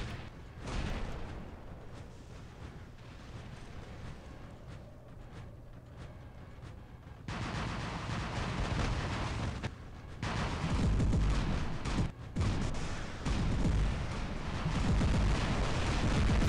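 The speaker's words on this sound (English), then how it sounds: "he's firing at me now." Gunfire and heavy weapon blasts from an opponent's mech in War Robots, a rough rumbling barrage of booms that grows louder partway through, with brief gaps between bursts.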